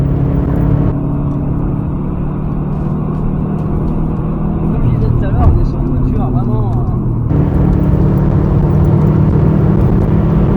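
A blue Subaru's engine rumbles loudly from inside the cabin during a ride, a steady low drone that steps up in intensity partway through as the car pulls harder.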